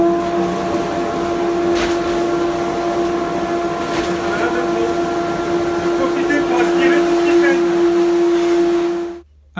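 A LEMAN ASP152 workshop vacuum cleaner with a freshly refitted bag runs at steady full power, a loud, constant motor whine with a strong tonal hum, then cuts off abruptly near the end.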